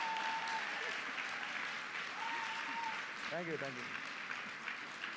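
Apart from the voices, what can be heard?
audience applause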